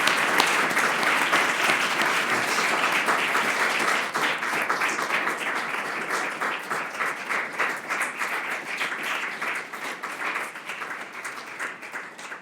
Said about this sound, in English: it's time to give another round of applause to Sven.